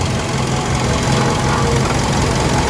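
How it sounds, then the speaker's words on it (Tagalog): A Suzuki Swift Dzire car engine idles, parked and heard up close, with a steady, even hum and low rumble that holds unchanged throughout, without any voices. "Ito mga par engine nya."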